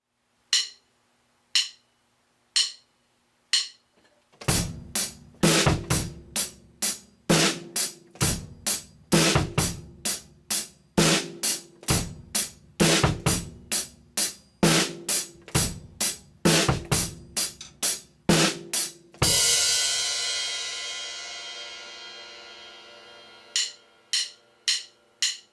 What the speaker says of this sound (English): The bass drum in this particular case happens on the E and of 2.